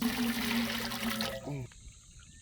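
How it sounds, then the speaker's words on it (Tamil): Water pours and gushes steadily into cooking pots for over a second, then cuts off, leaving a faint trickle and quiet background. "சட்டி எல்லாம் பன்னெண்டு சட்டி தண்ணி ஊற்றணும்"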